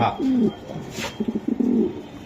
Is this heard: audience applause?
no